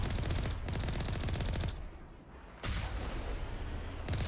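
Enemy gunfire in Mass Effect 1: sustained loud automatic shooting roars almost continuously, breaking off briefly in the middle before resuming at full intensity.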